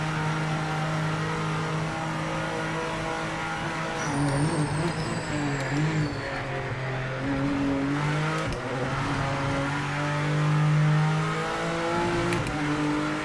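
A GT3 race car engine in the racing game Project Motor Racing revs up and down through gear changes, a steady mid-level drone with rising and falling pitch sweeps and no talking.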